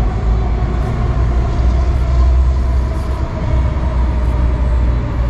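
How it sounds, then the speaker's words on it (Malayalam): A Dubai Metro train passes close by with a steady, loud rumbling roar that holds through the whole stretch, with no voices over it. "കറക്റ്റ് ടൈമിൽ ഒരു മെട്രോ വന്നു."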